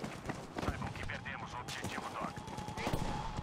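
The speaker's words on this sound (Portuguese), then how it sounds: "Você tá atirando de mim muito longe, irmão." Distant gunfire crackles in scattered bursts during a Battlefield V match, faint pops and rattles repeating across a few seconds beneath steady background game noise and talk.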